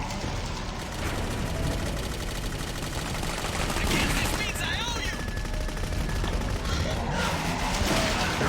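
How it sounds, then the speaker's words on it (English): Sniper rifle shots in Clive Barker's Jericho, loud cracking gunfire amid rapid bursts of other shooting and crashes, dense and continuous combat noise. "So 2 shots with a sniper rifle."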